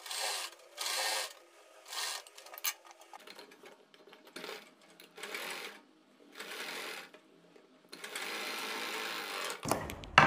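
Domestic sewing machine basting piping onto fabric in short bursts of quick, close stitching separated by pauses, with faint handling noises in between.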